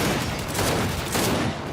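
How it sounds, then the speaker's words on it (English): A turret machine gun in the video game Gears 5 fires a dense, continuous burst of heavy gunfire, loud and close with no pauses. "That turret's ripping us up!"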